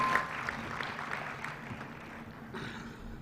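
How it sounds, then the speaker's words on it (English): Audience applause at the annual Financial Literacy and Financial Inclusion Forum, a steady, moderately loud wash of clapping that carries on for about three seconds. "can we give the team that just left the stage a big,"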